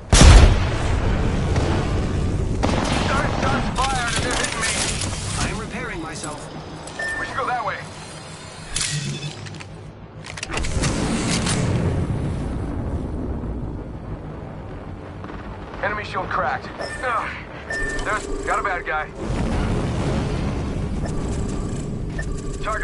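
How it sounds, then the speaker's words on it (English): A grenade explodes in the Apex Legends video game on Kings Canyon, a loud boom and whooshing debris amid gunfire and other combat noise, with voice lines heard over the action. "Look out, grenade."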